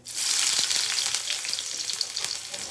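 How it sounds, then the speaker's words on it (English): Finely chopped onions hitting hot oil in a pan for Indian masala Maggi, a loud bright sizzle that flares up at once and keeps crackling steadily, no voices. "we'll wait for the onion to become brown"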